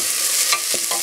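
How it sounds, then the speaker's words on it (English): Vegetables sautéing in a pot as the base for tomato soup: a steady, close sizzle with soft stirring scrapes and no voices. "So I'm going to saute this just a little more."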